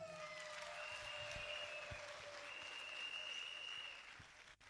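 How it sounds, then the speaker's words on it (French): Applause from a seated audience during a business presentation, a steady even patter of clapping that carries on for several seconds before easing off near the end, with a high sustained tone running underneath. "ça peut s'applaudir"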